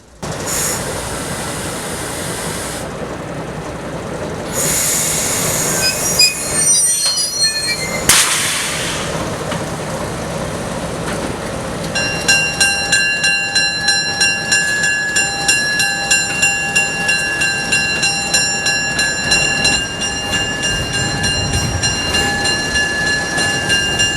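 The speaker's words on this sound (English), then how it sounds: "The crew of the 7 will be cutting off, running around, and shoving their train eastbound" A train is shoved slowly eastbound along the track, with a long metallic wheel squeal and a rhythmic clacking of wheels over rail joints.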